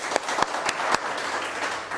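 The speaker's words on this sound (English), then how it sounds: "please clap for them" A small group claps a few times in an irregular pattern during a political debate, short sharp hand claps over a steady background hiss.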